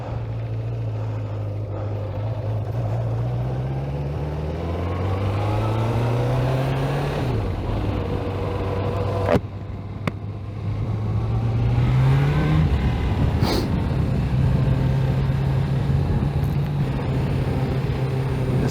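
A 1985 Kawasaki GPZ600R motorcycle engine on a ride, droning steadily close up as its pitch climbs through gears with shifts and dips, then settles into a smooth cruise.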